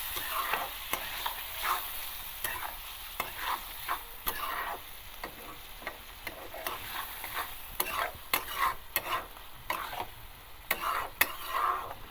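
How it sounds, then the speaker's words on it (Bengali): Soybean chunks and potatoes stir-fried in a pan for a spiced curry: a steady sizzle with frequent sharp spatula scrapes against the pan at an uneven rhythm, close and moderately loud, no voices. "সয়াবিনটা অনেকটা কষানো হয়ে চলো"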